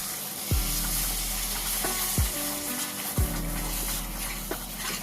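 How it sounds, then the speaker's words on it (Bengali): Cauliflower korma simmering in a pan as whisked sour yogurt is stirred in over low heat, with a steady low sizzle and a few sharp spoon knocks against the pan. "ফেটানো টক দই দিয়ে দিচ্ছি।"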